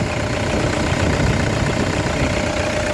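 A 2012 Toyota Innova V diesel with automatic transmission idles up close, a loud, steady, clattering diesel rumble with no voices.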